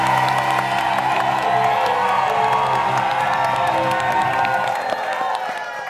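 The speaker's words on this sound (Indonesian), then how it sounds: "Tepuk tangan untuk tamu saya ya, yang paling spesial, Om Dede Yusuf." A studio audience on a television show cheers, whoops and claps loudly for a special guest, a sustained crowd roar with music underneath that eases slightly toward the end.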